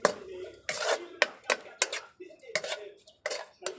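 Rice stirred with fried garlic in a pan, a utensil scraping and clinking against the pan in several quick, irregular strokes, up close and fairly loud.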